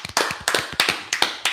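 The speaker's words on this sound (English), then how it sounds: "Clap it up one time." Hands clapping in a steady run of sharp, close claps, about six quick bursts in a row with no talk.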